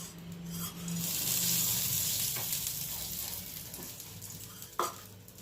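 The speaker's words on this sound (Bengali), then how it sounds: "এবার আমি আবার চাটুতে তেল ব্রাশ করলাম।" Oil brushed onto a hot tawa griddle for bhetki fish paturi hisses in a steady, close sizzle lasting several seconds, with faint scraping and a sharp clack near the end.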